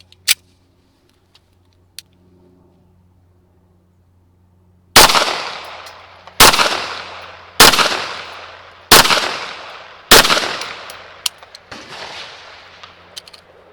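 A Rock Island Armory XT 22 Magnum pistol fires five loud, sharp shots at steady intervals of roughly a second and a half, each followed by a ringing decay outdoors, after a few faint clicks and handling noises.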